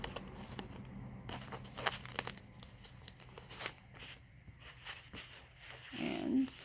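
Tape is torn by hand nearby in short rasping rips and crinkles, followed by a louder burst of handling noise at the end.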